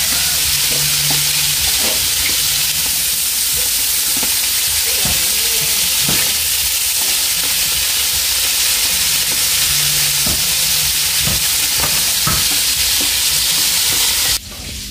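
Fish frying in a home kitchen pan, a constant loud sizzle and hiss with scraping stirring strokes recurring throughout, no talking.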